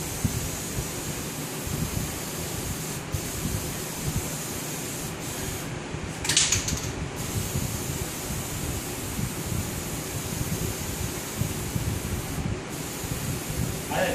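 An aerosol can sprays with a steady hiss close by while a fireplace mantel is refinished, a broad, even rush with a brief louder burst partway through.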